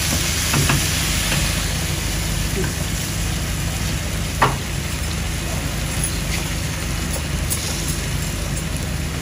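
Sliced eggplant and potatoes cook in a pan with a constant, dense sizzle and crackle that stays fairly loud and close throughout, with a few small pops.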